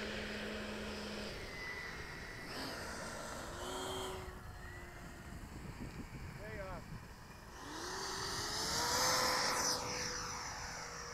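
A Freewing MiG-21 radio-controlled model jet flies over with a steady whooshing fan roar that swells as it passes, heard at a distance in the open air with outdoor background noise.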